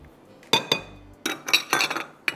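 A spoon mixing batter with chocolate chips in a bowl for chocolate banana bread, giving a quick series of close, sharp clinks and scrapes against the bowl.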